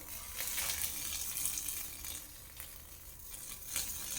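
Dry ice bubbles and fizzes in water with a continuous close hiss, small pops and surging bursts that swell and ebb, no voices.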